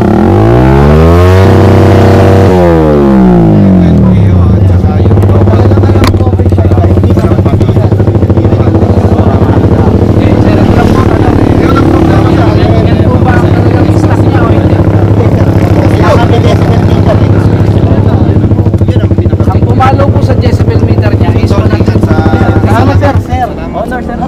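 A motorcycle fitted with an exempted aftermarket exhaust pipe revs loud and close, rising sharply at first and then settling into a sustained droning roar with fluctuating pitch.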